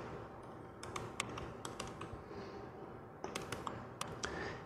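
Someone types a command on a computer keyboard in two short bursts of faint, sharp key clicks separated by a quiet gap.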